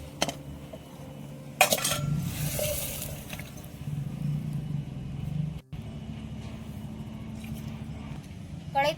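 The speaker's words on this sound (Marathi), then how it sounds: "आता हे चिकन जे आहे ना तर दुसऱ्या एखाद्या भांड्यात काढून घेतो." Metal utensils clank and scrape against pots as cooked chicken is moved from one vessel into another in a rural kitchen, with a few sharp clatters, a steady background rumble and brief sizzling.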